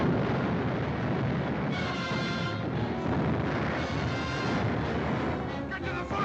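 Ship cannons fire a broadside in a 1942 pirate adventure film, heard as a dense, continuous rumble of booming blasts and crashing debris with no clear separate shots, loud and steady throughout.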